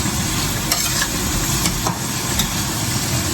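Onions cooking in a pan for salmon pasta hiss with a loud, steady sizzle up close, with a few sharp scrapes of a utensil stirring through them.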